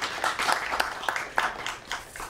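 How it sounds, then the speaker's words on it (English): Applause for students at a university lecture event at McGill: a modest audience clapping in a loose, uneven patter, fairly close and moderately loud, with no talking over it. "let's give them all another big round of applause for the work that they've done"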